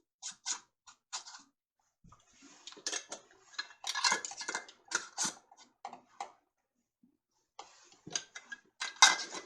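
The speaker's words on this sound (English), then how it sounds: "And then we are going to place our lid and ring." Metal canning lid and band set onto a glass jar for ham and potato soup, heard as a series of close, light metallic clinks and taps in short bursts with quiet gaps, no talking.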